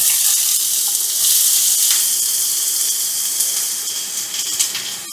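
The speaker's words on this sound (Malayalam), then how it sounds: "അപ്പൊ വെളിച്ചെണ്ണ ഒന്ന് ചൂടായി വരുമ്പോഴത്തേക്ക് നമ്മൾ നേരത്തെ തന്നെ ഒരു സവാളയിലേക്ക് ഇട്ട് കൊടുക്കണേ" Onions fry in hot coconut oil in a pan while a chicken omelette is being prepared, a steady, loud, close sizzle that hisses on for several seconds with no voices.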